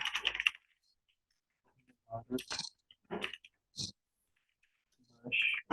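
Short bursts of clicking on a computer keyboard, a quick flurry at the start and several brief clusters of taps later, close and fairly soft, separated by silences.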